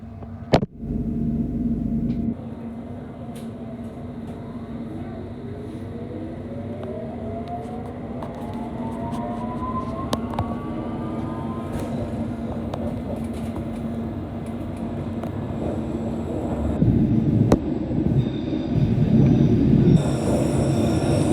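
A London Underground Hammersmith & City Line train runs with a continuous low rumble and a steady hum, joined by rising and falling whine tones as it picks up speed, and a heavier burst of noise near the end.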